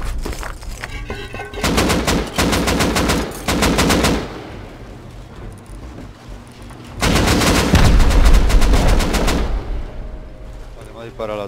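Gunfire in the Rust video game: two long bursts of rapid automatic shots, loud and close, separated by a lull with scattered quieter shots and ambient noise.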